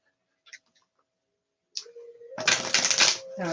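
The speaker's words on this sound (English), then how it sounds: "waiting for me to finish shuffling these cards" Tarot cards are shuffled close up after a few faint clicks, a dense, loud riffling flutter that runs steadily for about a second before easing slightly, with no speech.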